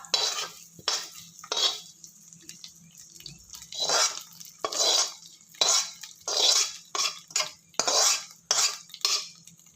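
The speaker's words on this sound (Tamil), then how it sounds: "நல்லா கலந்து விட்டுருலாம்" A spoon stirs cashews, pepper, cumin, ginger and green chilli into ven pongal in a pot, giving repeated scraping strokes against the vessel in an uneven rhythm, close and clear, with no talk.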